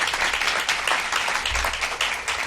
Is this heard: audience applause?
yes